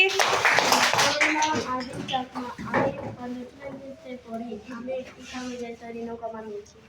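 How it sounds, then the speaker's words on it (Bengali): A primary school class claps for a pupil who made a handmade broom, a brief burst of applause at the start followed by someone speaking clearly over quieter background. "ওকে হাততালি দাও"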